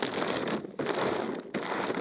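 A plastic bag crinkles close up in quick loud bursts, broken by two short pauses, as it is handled and puffed open with air, with no voices.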